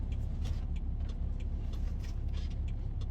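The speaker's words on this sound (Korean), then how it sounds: "디젤 모델인데도 불구하고 지금 한번 들어보십시오. 소리가 안 납니다." A diesel BMW GT engine idles with a low, smooth, even hum, heard close and steady with faint higher clicks above it and no speech.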